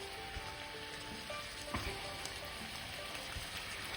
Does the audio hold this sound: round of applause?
no